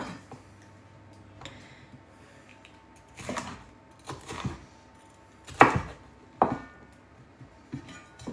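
A knife chops bell peppers on a cutting board in a home kitchen, making irregular sharp thuds in small bursts, some louder and closer than others, with quiet pauses between.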